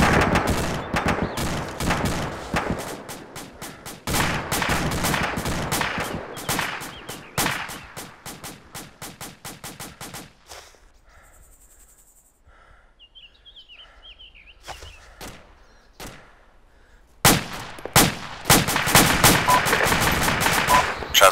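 Heavy bursts of automatic and single-shot gunfire from an Arma 2 military game battle, loud and dense, dropping to a quiet lull with faint distant shots and bird calls before intense firing resumes.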